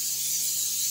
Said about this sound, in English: reach and spray your hand a little bit